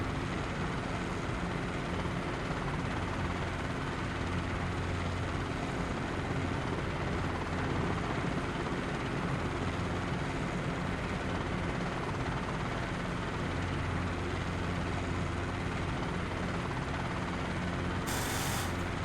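CH-47 Chinook helicopter in a flight simulator, a steady, continuous rotor and turbine drone with a low rhythmic thrum, unchanging and alone throughout.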